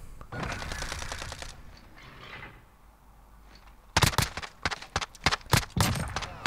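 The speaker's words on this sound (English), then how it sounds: "A few little shots that went off and nearly got me killed" Sharp gunshots from a Modern Warfare match ring out in quick irregular bursts after a stretch of quieter ambient sound, loud and close; a brief voice is heard early on.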